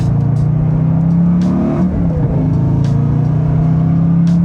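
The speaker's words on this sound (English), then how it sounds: "The sound is fantastic." A Revology Mustang Boss 429 restomod engine rumbles steadily and loudly, with a brief rise in revs partway through before settling back to a deep idle.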